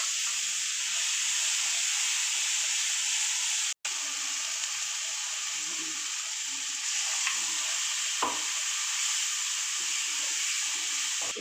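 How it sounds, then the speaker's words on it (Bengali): Black cumin, green chilli and spice paste sizzling in hot oil for a mustard fish curry, a loud continuous close hiss with scattered stirring clatter and a short break early on, no talk. "আমি কালো জিরে দিয়ে দিলাম, কাঁচা লঙ্কা ফোড়ন দিয়ে দিলাম, রেখেছিলাম এই মশলাটাও ঢেলে দিলাম"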